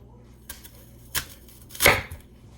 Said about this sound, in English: Let's start with the apple, and you just wanna slice it in half.